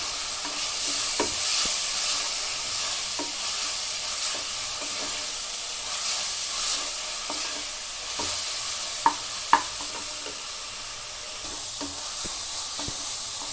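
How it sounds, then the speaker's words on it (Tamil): Ginger garlic paste stir-frying in a pan makes a continuous close sizzle, punctuated by repeated light scrapes and taps of a spatula stirring, with a couple of sharper knocks partway through. "இது இந்த பச்சை வாசனை போகிற வரைக்கும் ஒரு 2 மினிட்ஸ் நல்லா மிக்ஸ் பண்ணி கொடுத்துக்கலாம்."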